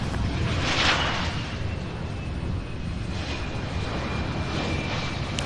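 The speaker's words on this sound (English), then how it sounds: "Airlines Flight 890 coming in from Los Angeles" A passenger jet on Flight 890 from Los Angeles arrives at Louisville, a broad rushing engine roar that swells briefly early on then holds steady, moderately distant and without voices.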